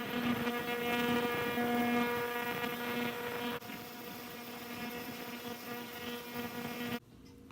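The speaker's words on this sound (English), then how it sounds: "I had it in the ultrasonic cleaner for 2 cycles." An ultrasonic cleaner running with the parts of a Gem Micromatic safety razor inside gives a steady, close electric hum with a tonal whine, dropping in level partway through and cutting off near the end.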